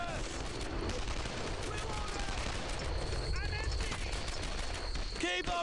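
Rapid gunfire crackles continuously from a World War II shooter game, Brothers in Arms: Earned in Blood, dense bursts layered with shouted voices and a steady battle din throughout.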